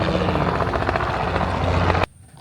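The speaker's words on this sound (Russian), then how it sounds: "О, вертолет летит." A loud helicopter flying overhead in Orlando makes a steady, rapid rotor thudding that fills the clip, then cuts off abruptly near the end.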